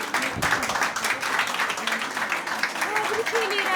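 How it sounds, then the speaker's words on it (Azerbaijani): Applause for a child named at a kindergarten graduation, a lively crowd of clapping hands that runs throughout, with voices talking and calling over it. "Rafiqi xüsusi alqışlayaq."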